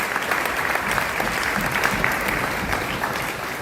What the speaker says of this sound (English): So, Duke, give that brother a round of applause.